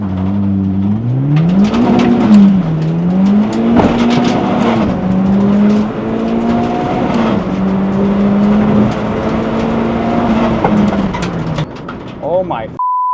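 A tuned budget Honda EG on new street tires drives hard around a track, its engine revving up and down through gear changes in a loud, close, rising and falling drone, with people talking over it and a brief tone at the end.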